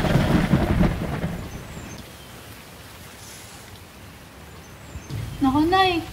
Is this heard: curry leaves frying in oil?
no